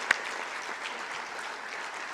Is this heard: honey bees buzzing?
no